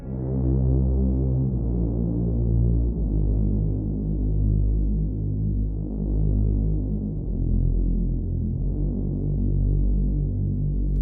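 A simple synthesizer counter melody of low sustained notes, a warm throbbing hum moving slowly between a few pitches, alone and steady with no voices.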